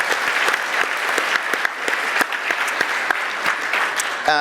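An audience gives a round of applause at a live talk, dense continuous clapping with sharp individual claps standing out, loud and sustained before tapering at the end.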